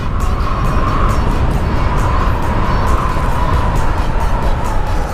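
Road traffic along Roxas Boulevard by the seaside in Manila: a loud, constant rumble of car engines heard from close by, with a faint siren-like tone drifting beneath the steady roar.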